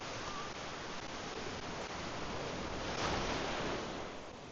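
Sea waves at La Digue in the Seychelles give a continuous broad roar of surf. It swells slightly toward the middle and then eases, steady and fairly loud, with no voices.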